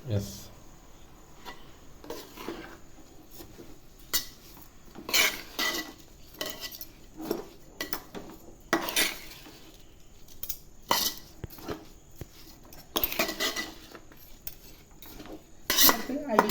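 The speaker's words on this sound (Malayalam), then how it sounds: "കോളിഫ്ലവർ ഇടാം പിന്നെ പയറിടാം അങ്ങനെയുള്ള സാധനങ്ങളെ നമുക്ക് ഇതിൻ്റെ അകത്ത് ഇടാം നമുക്ക് ഇളക്കാം" A spoon stirs cauliflower, beans and other vegetables in a pot for vegetable pulao, giving repeated scraping and clinking strokes at an uneven rhythm over a quiet kitchen background with faint insect chirping.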